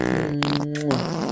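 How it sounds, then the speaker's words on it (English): Cartoonish fart sound effects from a Minecraft game with a Fallout mod, a continuous loud buzzy blat with tonal wobble lasting over a second, broken by brief breaks. "Can you stop doing the fart sounds?"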